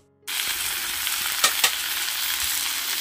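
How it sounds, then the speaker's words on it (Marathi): Garlic and onion fry in hot oil in a kadhai, a steady close sizzle with a couple of brief clinks of stirring midway, no voices. "त्यातच मी आता लसूण आणि बघा कांदा टाकलेला आहे. चांगला असा लालसर भाजून घेते."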